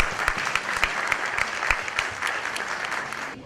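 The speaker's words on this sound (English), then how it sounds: "let's once again congratulate Mr. Vasu Shaw with a huge round of applause" An audience at an awards ceremony breaks into dense, sustained applause for an award winner, close and even throughout with sharp individual claps standing out.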